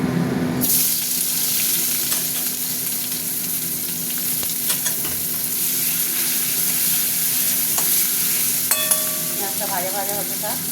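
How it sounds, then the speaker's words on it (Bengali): Chopped onions fry in hot oil with a little sugar for an egg curry, giving a steady, close sizzle that runs throughout while a utensil stirs and scrapes the pan. "পেঁয়াজটা ভাজা ভাজা হতে থাক।"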